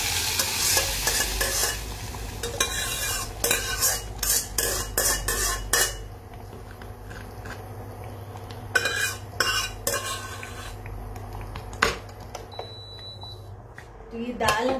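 Dal tempering with cumin and deggi chilli in a pan, spoon stirring and scraping with bursts of sizzle, then quieter frying; someone talks throughout.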